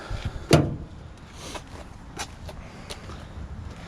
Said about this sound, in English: Gas tank door.